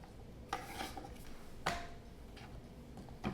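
A knife cuts apples into cubes on a board, giving a few sharp, sparse chops and light scraping taps, soft and near, with quiet gaps between strikes.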